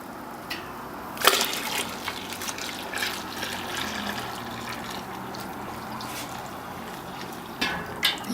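Water poured to top up a batch of home-brew farmhouse IPA, a soft steady trickle and splash with a few louder gushes, faint and fairly close, with no talking.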